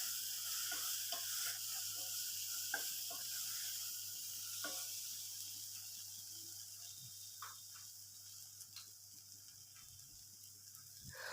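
Carrots and beans being stirred in a pan while cooking masala oats: soft, scattered scraping taps from the spoon over a faint background hiss, quiet and close, with no talking.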